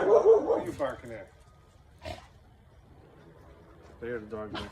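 A neighbouring dog gives a few yips and whimpering barks, brief and moderately close, between bursts of someone talking.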